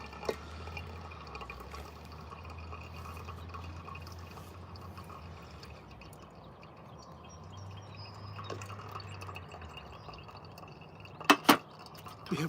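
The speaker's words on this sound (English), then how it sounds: "We're just gonna kind of brew normally and just use the hot water to hopefully extract some of" Hot water poured over coffee grounds with sakura petals, a faint steady trickle and drip under low room hum, ending with a couple of sharp clinks.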